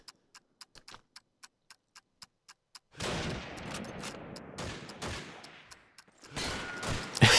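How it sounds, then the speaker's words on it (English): Call of Duty 2 gunfire in a competitive match: a steady run of sharp, evenly spaced single shots, then dense, loud overlapping automatic fire and explosions from many directions. "bullets from KOMPLEKSiii coming from every different angle"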